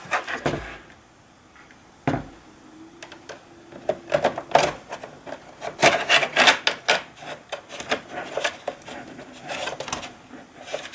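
A hard drive slides into the back of a PS4 Slim chassis with scraping, rubbing plastic-and-metal sounds, several close bursts of friction and a few sharp knocks, with no talking.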